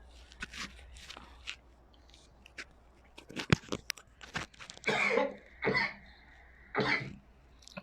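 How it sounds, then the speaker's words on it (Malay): Several coughs, three loud harsh ones in a row near the end, preceded by scattered clicks, rustles and small mouth sounds in a quiet room. "Maaf, batuk."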